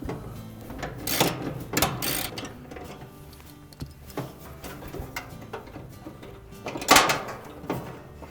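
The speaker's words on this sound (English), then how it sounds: "using our ratchet, we'll remove that bolt" A ratchet works a 3/8 inch head bolt off the motor bracket of a Whirlpool dryer: scattered metallic clicks and clunks at close range, with a few louder knocks, no talking.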